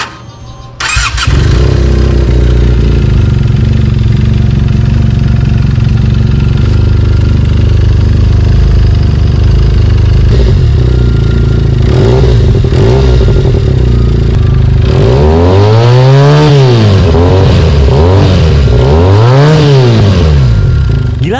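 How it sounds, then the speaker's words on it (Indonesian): A Benelli TNT 249 two-cylinder motorcycle starts at a show and idles loudly up close. The throttle is then blipped repeatedly, and the revs rise and fall in sweeping surges. "di sini teman-teman bisa ngeliat Benelli TNT 249 yang mengeluarkan suara moge,"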